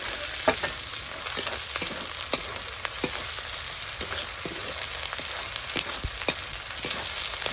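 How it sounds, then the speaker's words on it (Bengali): Tomato and ginger frying in a pan while being stirred, giving a steady, close sizzle with sharp scraping clicks from the spoon scattered throughout. "এই টমেটো দিয়ে এই আদা দিয়ে দিলাম পরিমাণ মতো, দিয়ে এটা নাড়িয়ে নেব।"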